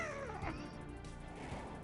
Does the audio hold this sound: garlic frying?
no